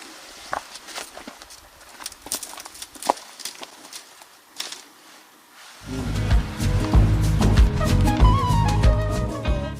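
Horse hooves clop irregularly on a rocky mountain trail up Cerro La Campana, close and crisp, joined halfway through by a louder continuous layer of background sound.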